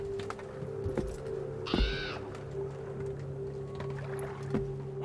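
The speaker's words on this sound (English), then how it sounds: "Well, the crows are here." Crows caw in the Assassin's Creed Valhalla video game, a brief harsh call standing out over a steady low ambient game drone with faint clattering.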